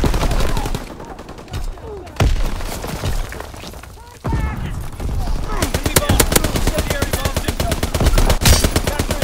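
Strafing-run gunfire in the World War II shooter Call of Duty: WWII on the Shipment 1944 map, with loud sustained rapid machine-gun bursts, booms and shattering mixed with in-game voice callouts.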